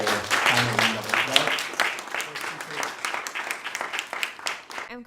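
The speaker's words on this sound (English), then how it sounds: "Please join me in the final round of applause." Audience applause at a feminist Armenian studies workshop, closing a panel: a dense, lively round of clapping from a roomful of people, fairly loud and steady, with a voice speaking briefly over it at the start.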